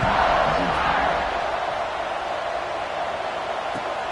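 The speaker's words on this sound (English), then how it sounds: "this crowd is buzzing after that last score" Stadium crowd in College Football 26 after a score, a broad steady roar of many voices that stays even throughout.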